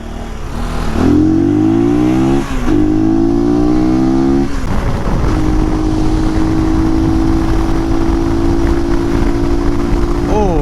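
A Mazda RX-3 with a rotary engine accelerates hard in evening traffic, its loud rising revs climbing through several gear changes before settling into a steady, high cruising drone, with wind and road roar throughout.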